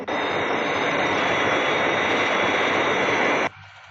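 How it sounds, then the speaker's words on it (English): A Fireflash airliner approaches the runway on its glide path, a continuous loud jet roar with a high whine that cuts off abruptly near the end. "Aircraft on glide path. 3 miles to threshold."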